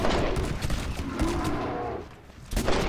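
Rapid bursts of gunfire in Red Dead Redemption Online, loud and close, crackling in quick succession across the whole moment with a brief lull near the end before another volley.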